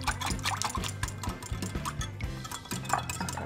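Flour, salt and a whole egg stirred together in a bowl for bread dough, a steady rhythmic scraping and tapping of utensil against the bowl, fairly quiet and continuous.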